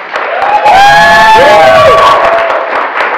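An evening event audience bursts into loud applause and cheering, with whoops and shouts rising over sustained clapping from a crowd, close and energetic throughout.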